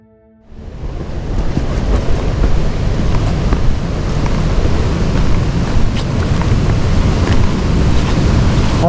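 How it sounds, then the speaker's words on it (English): Steady, loud rushing of a river fills the scene, a broad continuous roar with some wind buffeting, starting after a brief quiet moment. "I can hear the water rumbling down through the valley."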